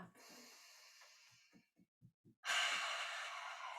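A deep breath drawn in during a guided relaxation exercise, heard as a long, close inhalation followed by a few short breathy puffs, then a loud sustained rush of air.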